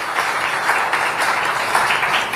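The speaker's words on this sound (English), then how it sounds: "please give my panelists a big round of applause" An audience at a Carnegie technology event applauds panelists at the end of a discussion, with a dense, even patter of many hands clapping at moderate loudness and no talking over it.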